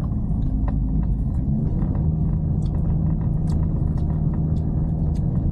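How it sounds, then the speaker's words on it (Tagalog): Climbing a steep hill, a Toyota Yaris Cross engine drones hard with a constant low rumble and faint whine inside the car, with small clicks and taps scattered over it. "Umiiyak na yung makina."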